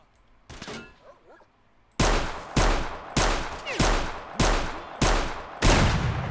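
Pistol fire in S.T.A.L.K.E.R. Shadow of Chernobyl: a single early shot, then a steady string of six loud, evenly spaced shots, each with a short echoing tail.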